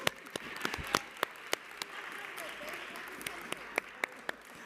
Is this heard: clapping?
yes